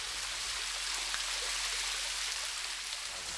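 Mountain stream water rushes steadily near its source high above Eoreumgol Valley in Miryang, a continuous broadband hiss heard close and alone without voices.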